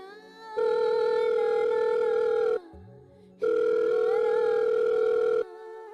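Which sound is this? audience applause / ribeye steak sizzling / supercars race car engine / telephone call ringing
telephone call ringing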